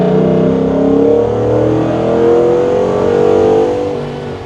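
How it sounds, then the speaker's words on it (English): A 1972 Ford Bronco, a Kindred Motorworks Trail Edition build, accelerates hard on the road, its engine note rising steadily in pitch with a loud, continuous mid-range roar heard from inside the cab, alone without talk. "Okay, we'll lean into this power a little bit here."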